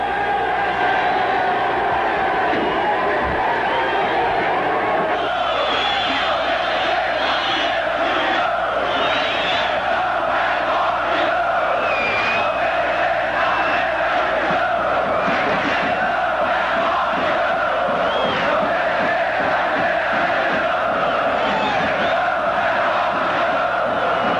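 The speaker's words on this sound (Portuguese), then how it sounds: "o coro de olé entoado pela torcida coxa" Coritiba football supporters chant a long, sustained olé together in a packed stadium during the club's 1995 Brazilian league promotion campaign. The wall of massed voices keeps rising and falling without pause.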